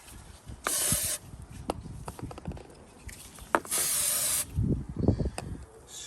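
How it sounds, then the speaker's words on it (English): Lube sprayed onto the chain of a Triumph Trident 660 motorcycle in two close, loud hissing bursts, each about half a second to a second long, among scattered small knocks and handling noises. "we'll go ahead and lube up this chain"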